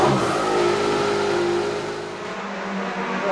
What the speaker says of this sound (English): Turn the car on, yeah. Noise test.